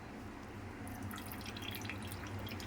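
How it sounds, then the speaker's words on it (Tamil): Coconut milk from grated coconut dripping through a strainer in a home kitchen, a steady patter of small drips over a low background hiss, close and fairly quiet, with no talk. "ஃபுல்லாக நல்லா வடிகட்டிட்டு இன்னொரு வாட்டி கொஞ்சம் பால் வேணும்னா தண்ணி ஊற்றி நம்ம எடுத்து இதே மாதிரி வடிகட்டிக்குங்க"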